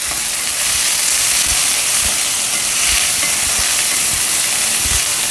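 Small onions fry in hot oil for a poha tempering, a loud steady sizzle with the occasional soft knock of stirring, close up and with no talking.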